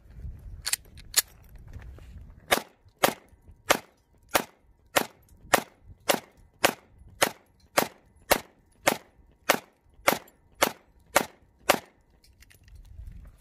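A Taurus G2C pistol fitted with a 17-round G3 magazine fires about twenty sharp, evenly spaced shots in a steady rhythm, each a crisp loud crack with a short tail.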